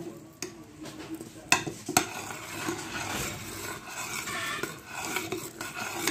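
Latik, coconut caramel, being stirred in a pot, with scraping and clinking of a utensil against the pot and a few sharp knocks over a soft background, fairly faint and close.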